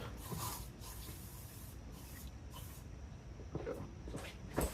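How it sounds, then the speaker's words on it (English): Bursts of bug spray aerosol spraying, hissy and close, repeated in short pulses with some rustling handling noise. "Let me get this damn bug spray."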